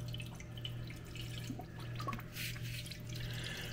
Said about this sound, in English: You can hear the air escaping